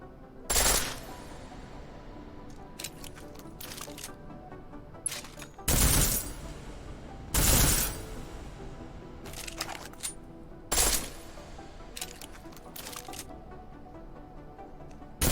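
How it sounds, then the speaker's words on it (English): Short full-auto bursts from a pistol in Deus Ex: Mankind Divided, sharp loud rattling volleys separated by pauses of a second or more, with a few isolated single cracks between them. "The pistol in full auto will take down targets fast, but it'll burn through your ammo."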